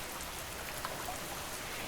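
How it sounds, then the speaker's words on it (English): Light rain patters steadily on the windows of a cabin at night, a soft continuous hiss of drops with no talking. "A light rain begins to tap gently on the windows,"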